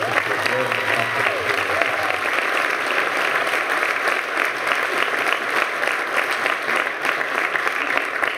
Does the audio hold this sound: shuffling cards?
no